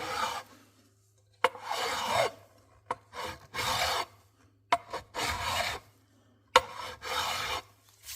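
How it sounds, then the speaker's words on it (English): A wood rasp, fine-tooth side, files through the finish of a Fender Stratocaster body in rhythmic back-and-forth scraping strokes, about six close, rasping passes with sharp knocks between some of them. "we got the wood rasp out here. I'm gonna use the finer tooth side and eat through that a little bit more"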